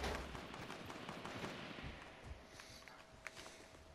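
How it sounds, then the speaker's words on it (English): Gunfire in a Fortnite match, reported as shots from a silenced pistol: a faint, distant, rattling string of reports trails off and is followed by one sharper crack near the end, with no talk. "That guy had a silenced pistol"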